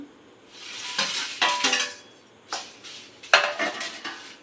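Dried red chillies tumble into a pan and are roasted for idli podi, with close clinks of metal on the pan and scraping stirs that come in several bursts, each dying back to a low sizzle.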